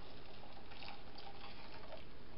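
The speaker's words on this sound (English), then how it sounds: "You want to add 1 cup of boiling tonic water." Boiling tonic water pours onto orange Jell-O powder in a bowl, a faint continuous liquid trickle with a soft splash under a steady background hiss.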